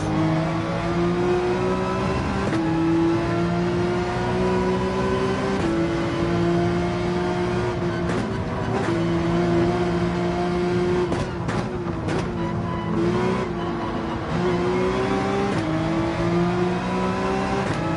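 Race car engines in an online race in Gran Turismo 7, a sustained whining engine note rising and falling through gear shifts and corners, with tyre and collision noises, alone without speech.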